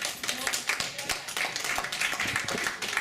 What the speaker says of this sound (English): give Frida a round of applause